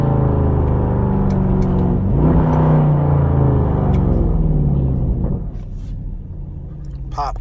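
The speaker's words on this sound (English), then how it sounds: "Hear these downshifts right quick." A Dodge Durango SRT 392 rumbles loudly from inside the cabin as the revs rise and fall through a pair of downshifts before the engine settles to a lower drone.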